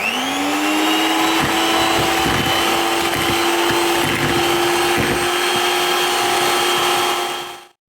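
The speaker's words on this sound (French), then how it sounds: "je vais fouetter pour obtenir le double en volume" An electric mixer whisks caster sugar, ahead of the vanilla yogurt, for a yogurt cake batter, its steady motor whine running loud and unbroken close by for about eight seconds, then cutting off.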